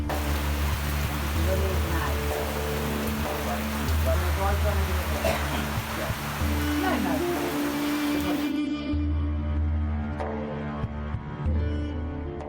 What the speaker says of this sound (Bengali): শুরু হলো বৃষ্টি।